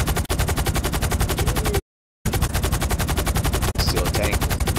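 Continuous rapid automatic gunfire from GTA 5 Online, a dense rattling stream of shots that fills the clip, broken by one brief silent gap and a short dip, loud and close with no speech.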